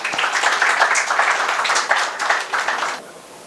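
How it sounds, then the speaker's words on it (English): Applause from an event audience greets a guest speaker, Dr. Vitthal Kamath, taking the stage: a dense, steady wash of clapping that holds for about three seconds, then quickly fades to a quiet room. "I would like to welcome Dr. Vitthal Kamath onto the stage with a huge round of applause"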